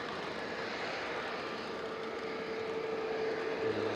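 Iberia airliner engines at Manchester Airport, a faint, distant steady jet rumble and whine with a thin tonal hum, continuous and fairly quiet.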